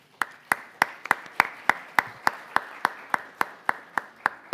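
Sparse, slow clapping welcomes a speaker at a Latin American budget-practices conference: about fifteen evenly spaced, crisp claps over four seconds, fairly close, with no talk.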